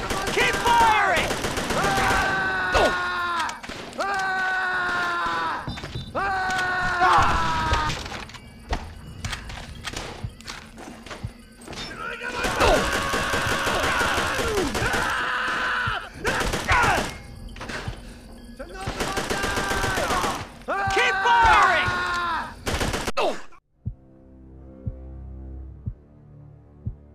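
Call of Duty: World at War battle at Shuri Castle on the PS2 edition, with sustained machine-gun and rifle fire in long loud bursts, thuds and explosions, and shouted voices over the fighting, ending in a quieter stretch.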